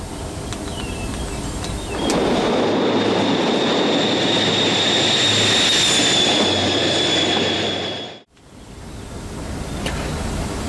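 Model HST trains rumble past close by on an outdoor layout with a steady roar and high metallic squeal, then cut off abruptly, leaving quiet background.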